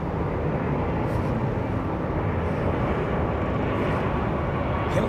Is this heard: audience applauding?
no